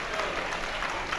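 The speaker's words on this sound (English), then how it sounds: "He gets a round of applause from the crowd." Crowd applause at a powerlifting nationals meet for an injured lifter, a short burst of steady clapping from the audience, moderately distant and fairly quiet.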